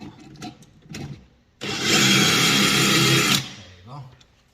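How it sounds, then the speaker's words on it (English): A power drill run during a microwave installation, giving one steady whirring burst of about two seconds, with someone talking quietly before and after it. "I turn the drill just this way a little bit"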